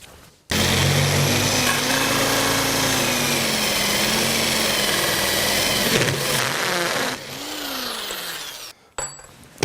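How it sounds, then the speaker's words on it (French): An HSS hole saw grinds through sheet metal clamped onto a wooden backing board, a loud continuous whining, rasping cut that holds steady for several seconds, drops as the tool winds down, then stops with a brief final scrape. "Donc pour percer avec la scie trépan, j'ai posé ma tôle, je l'ai fixée sur un martyr en bois."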